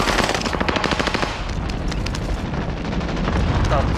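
Rapid bursts of video game gunfire crackle in dense, loud volleys, dropping into a rumbling lull before heavy shooting picks up again near the end.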